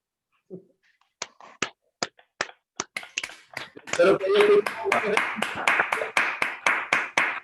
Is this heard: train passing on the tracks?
no